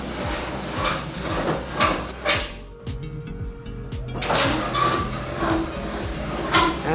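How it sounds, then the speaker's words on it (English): A motorized roller door on a backyard shed, triggered from a phone app, gives a steady mechanical motor hum with metallic rattling and clanks. A short pause falls midway, then the rolling resumes, fairly close and loud. "So from my phone I should be able to control the doors."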